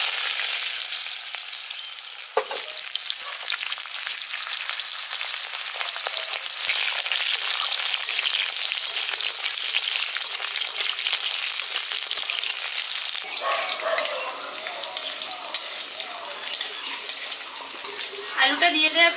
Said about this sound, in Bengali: আলুটা দিয়ে দেওয়ার পর আলুটা লালচে করে ভেজে নিচ্ছি